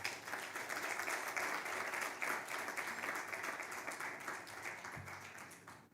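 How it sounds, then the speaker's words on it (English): An audience at a formal ceremony welcomes a chief guest with sustained, even hand-clapping applause that sounds distant and fairly quiet and fades slightly near the end. "I would like you to warmly welcome our chief guest today with a hand clap"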